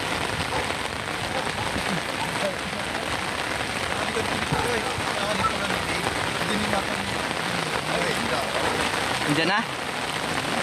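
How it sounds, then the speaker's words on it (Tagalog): Heavy rain pours steadily on surfaces outdoors during a flood, making a loud, continuous wash throughout, with a brief spoken exchange over it. "Malakas ng ulan doon."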